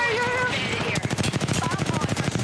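Rapid machine gun fire in a video game shooter, a steady burst of sharp repeated shots taking over the second half after a voice speaks.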